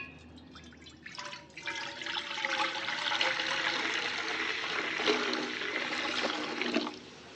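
Hot water, about three litres, is poured steadily over dried fish for a village-style curry, a continuous close splashing and gurgling pour lasting several seconds.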